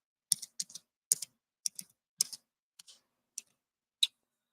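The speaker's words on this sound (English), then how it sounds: "I'm typing it." Sparse, irregular keyboard clicks, about a dozen light taps with pauses between them, close and quiet with no talking.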